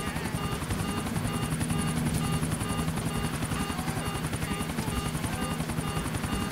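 Police helicopter in the video game GTA IV, its rotor chopping in a steady, loud, continuous rhythm throughout with no pauses.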